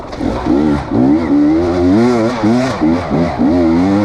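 A KTM 300 EXC Six Days two-stroke dirt bike engine climbs a steep hill, loud and close, its pitch surging and dropping in repeated revving waves throughout.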